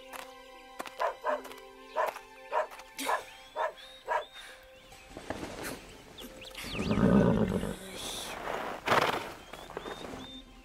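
A cartoon horse among a herd of grazing horses whinnies after a run of short, evenly spaced bark-like calls, the neigh rising loud and drawn out in the second half.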